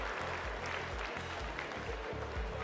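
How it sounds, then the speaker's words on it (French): Steady applause from an audience at a Salers cattle competition, honouring the GAEC du Fayet farm; dense, continuous clapping of a crowd with a low hum underneath. "Donc on peut applaudir le GAEC du Fayet"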